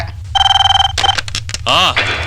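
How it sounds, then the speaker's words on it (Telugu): A telephone rings in a steady electronic trill, followed by brief clattering and a voice speaking. "సత్యం ఫోన్ మోగింది"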